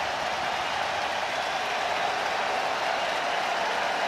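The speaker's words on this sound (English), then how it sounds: "Crowd making noise" Steady, dense roar of a baseball stadium crowd at an MLB Wild Card playoff game, Diamondbacks against Brewers, a continuous broadband wash of cheering voices without clear breaks.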